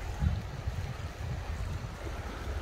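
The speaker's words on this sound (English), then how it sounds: "It's actually pretty fast moving water." Fast-moving river water at a campground rushes in a steady, broadband wash, with low rumbling and no voices.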